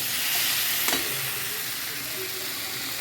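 Pre-fried shrimp going into a hot pan of Bengali home cooking, a steady loud sizzle and hiss throughout with a brief clatter as the pieces drop in.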